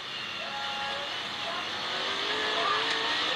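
Onboard a race car at the IMSA Petit Le Mans, a loud engine roar runs continuously as the car rides over the turn 3 curbing, with faint tire scrub and rumble underneath.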